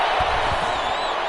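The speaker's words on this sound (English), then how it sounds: "Some boos coming down right now from this home crowd after that call." A home crowd booing in a PS4 football video game, a sustained, loud, dense roar of the stadium crowd filling the whole moment.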